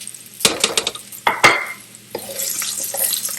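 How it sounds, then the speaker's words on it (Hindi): Onions tipped into hot oil in a cooking pot bring a few sharp metallic clatters and scrapes, then a rising, steady sizzle of frying close by. "ये मैंने इसमें ऑयल डाला और साथ ही इसमें प्याज चले जाएंगे जो मैंने 3 से 4 अदद लिए।"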